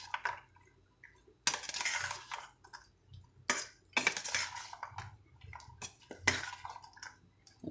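Spoon scraping and clinking against a bowl while corn chaat is tossed together, a close series of bright metallic clinks and rattling bursts in irregular rhythm, with no voices.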